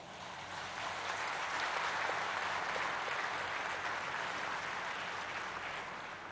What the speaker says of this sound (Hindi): आप सभी के लिए एक बार जोरदार तालियां हो जाएं।